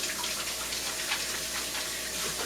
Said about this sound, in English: Let me rinse my hands quickly here.